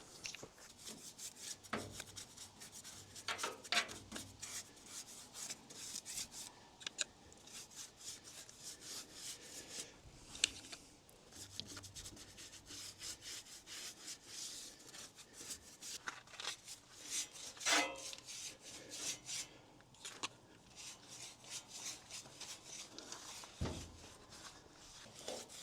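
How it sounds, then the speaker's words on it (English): Brush daubing rust eater onto a rusty steel trailer frame, faint irregular scrubbing and rubbing strokes up close, bursts of bristle scratching separated by brief pauses. "now I will use this rust eater to transform the rust"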